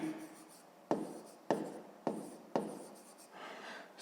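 A pen writes out a maths solution on paper, close up and quiet, in four or five distinct scratchy strokes, each starting with a sharp onset and fading off, with brief pauses between them.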